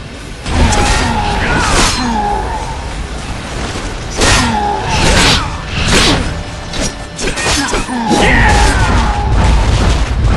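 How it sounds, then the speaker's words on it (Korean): A Volcano spell in Kingdom Under Fire 2: loud rumbling booms and crashing blasts recur in waves over a dense, continuous battle din. "볼케이노를 사용합니다."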